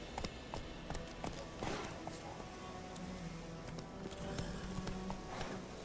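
Horse trotting in The Witcher 3 video game, quiet rhythmic hoofbeats with a few sharper taps, mixed under soft background game ambience throughout.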